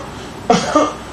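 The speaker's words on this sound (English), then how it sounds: "Dry cough." A person demonstrates a dry cough, giving two short, harsh bursts close to the microphone in an otherwise quiet room.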